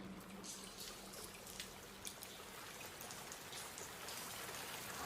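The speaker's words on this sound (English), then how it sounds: "Is that rain? We're underground. How can it be raining?" Soft rain heard from underground patters continuously with scattered drips, faint and somewhat distant, over a low steady wash.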